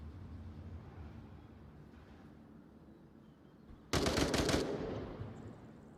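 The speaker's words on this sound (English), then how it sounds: "He's got that LMG, and he's ready to just start shooting." In the VR shooter game Onward, a light machine gun opens up in a sudden, loud burst of rapid automatic fire. The burst lasts about a second, with faint background activity before it.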